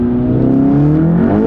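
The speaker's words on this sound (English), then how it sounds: "We'll do a first gear traction control off rev." A Volkswagen MK7 GTI with an 034 Motorsport dog bone mount, revving in first gear with traction control off: loud, close, sustained engine drone rising steadily in pitch throughout.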